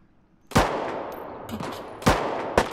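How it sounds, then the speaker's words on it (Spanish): Gunfire in the video game Deadside: three loud, sharp shots spaced about a second and a half apart, each with a ringing tail, plus a fainter crack in between, with no talking. "Ahí escucho tiros"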